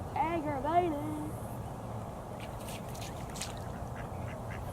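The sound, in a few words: ducks quacking near a fishing spot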